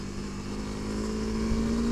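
A Honda CRF300L motorcycle engine runs with a steady, deep, throaty hum, idling close by at an even level with no talking.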